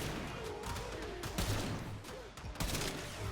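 A primary weapon in the Warframe video game fires in rapid sustained bursts, a dense crackling fusillade with a couple of sharper louder shots, heard close and steady throughout.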